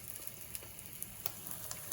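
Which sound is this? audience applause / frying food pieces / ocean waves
frying food pieces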